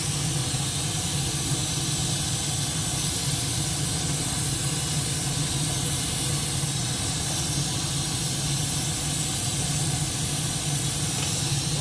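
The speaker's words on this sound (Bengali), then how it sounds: "এবার দুধটা দিয়ে একটু সময় ফুটিয়ে নেবো" Coconut milk boiling in a pan, a loud, continuous, even hiss of steam and bubbling that holds steady throughout.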